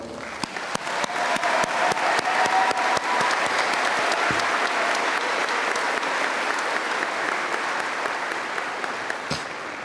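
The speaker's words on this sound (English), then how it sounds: "let's pay honor and give a round of applause to all the mothers" Sustained applause from a large commencement audience honoring mothers, dense and steady clapping across the full span with faint voices mixed in.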